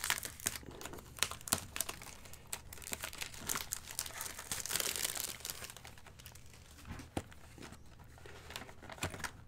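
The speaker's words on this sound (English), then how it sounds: "So let's go ahead and open up our box." Close, continuous crinkling and rustling of plastic packaging as a Dragon Ball Super trading card box is opened, a fairly quiet, busy texture with scattered sharper crackles and no speech.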